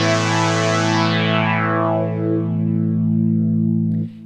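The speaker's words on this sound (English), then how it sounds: "we're now controlling the filter cutoff with the Moog pedal, and I'm going to crank up the resonance, and we can hear the resonance effect as well." A synth tone with its filter cutoff swept by a Moog expression pedal and the resonance cranked up, heard alone as a sustained buzzy note whose bright resonant peak glides steadily downward before cutting off abruptly near the end.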